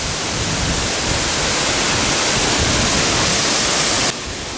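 A waterfall on a rainforest trail at REGUA in Brazil, pouring as a loud, dense, unbroken roar of rushing water that fills the whole clip before dropping in level abruptly at the end.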